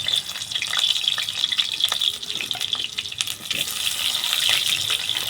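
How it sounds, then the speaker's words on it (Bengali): Potatoes sizzle in hot oil in a wok, a steady bright hiss and crackle of frying that stays fairly loud throughout, with faint kitchen noise alongside. "ও আগে আলু ভাজবে।"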